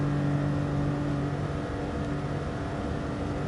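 A Porsche race car engine in Gran Turismo Sport drones steadily with a sustained, dense whir, loud and continuous throughout without any talk.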